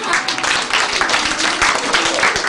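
Applause from an audience fills the whole stretch, a dense, steady wash of many hands clapping at close range.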